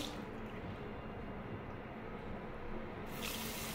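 Water runs from a tap in a room of a Nairobi house, a steady close hiss with no pause that gives way to a brief brighter splash at the end.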